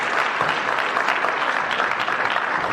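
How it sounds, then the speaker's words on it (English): A convention panel audience applauds Marvel Cosmic comics creator Jim Starlin, with loud, sustained clapping and scattered cheers that continue unbroken throughout. "as Jim encourages more applause, which I understand."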